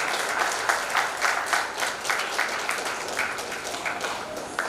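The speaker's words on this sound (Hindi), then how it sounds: "तालियां बजनी होनी चाहिए।" A seated audience at a writers' festival prize-giving in India claps loudly and steadily for student award winners, a continuous wash of applause with rhythmic pulses and no talk over it.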